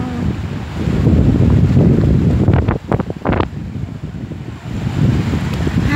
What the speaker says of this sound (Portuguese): Ai, que gostosinho o barulho das ondas.